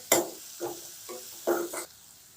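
Chicken liver stirred with salt and garam masala in a pan: several short scraping strokes in an uneven rhythm with light sizzling, close and moderately quiet, no talking.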